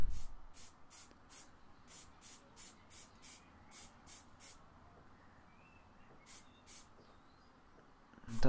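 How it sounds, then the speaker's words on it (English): Rattle can of primer sprayed onto a Land Rover Defender door: a rapid series of short, close hissing bursts in a steady rhythm, a pause, then two more bursts, with a thump at the end and no one talking. "so I've got my rattle can."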